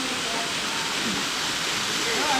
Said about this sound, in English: I think this one is our fourth waterfall.